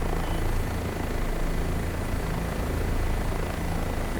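OH-58D Kiowa helicopter flying in a flight-simulator game, its rotor and turbine giving a continuous dense, even drone with a low thumping pulse, loud and steady throughout, no talking.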